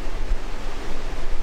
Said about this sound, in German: Das sind ein paar Liter, die da pro Sekunde entlang geschwemmt werden.